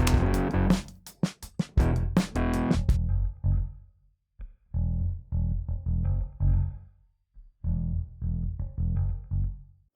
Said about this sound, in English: there's a 1 second plate reverb